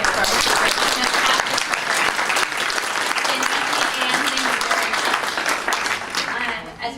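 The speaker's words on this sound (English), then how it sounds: "please join me and give me a round of applause for our fantastic" Audience at a 55+ community breakfast event breaks into a loud, sustained round of applause, dense clapping lasting several seconds before tapering off at the end.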